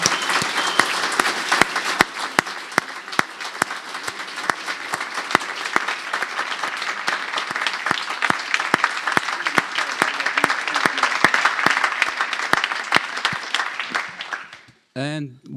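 A long, loud round of applause at a space mission user consultation meeting, with sharp individual claps standing out from the dense crowd clapping. The clapping continues steadily before stopping abruptly, followed by a brief sound at the very end.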